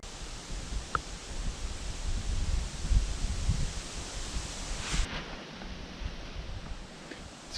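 Cold wind blows steadily outdoors as a soft, broad rushing noise with light rustling and occasional gusts buffeting the microphone, no voices present.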